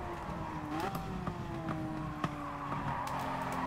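Race car engine in GT Sport, a revving, shifting engine note with rising and falling pitch through gear changes, a few sharp clicks or bumps, steady and fairly close.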